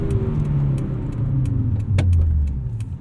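A Volvo 850 R with a 5-speed manual accelerates, its engine note rising in pitch through the gears with a brief dip at a shift, heard from inside the cabin over road noise.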